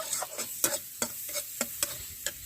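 A tomato mixture being stirred and fried in a pan, with a soft sizzle under a series of scraping strokes of a spoon at a regular rhythm, close and fairly quiet.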